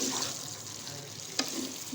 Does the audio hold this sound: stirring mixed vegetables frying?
yes